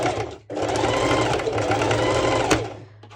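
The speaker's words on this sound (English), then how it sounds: "My sewing machine is really friendly with thicker fabrics, thicker layers" A sewing machine runs steadily with a fast mechanical whir, stopping briefly near the start and slowing at the end.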